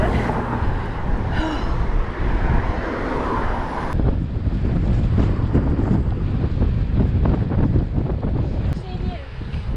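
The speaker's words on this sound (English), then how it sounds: "My goodness me, that was really into the wind there." A strong headwind buffets the microphone during a road ride on Giant Toughroad and Liv gravel bikes by Weymouth Bay. The roar and rumble are loud and continuous, with a voice talking partly under it.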